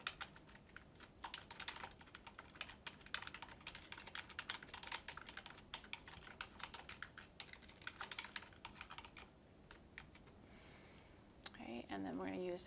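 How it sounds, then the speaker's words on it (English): A sentence tapped out on a computer keyboard, with quiet, rapid, closely spaced keystrokes in a continuous run and a brief shift in sound near the end. "we're going to type in this sentence, please give us your feedback."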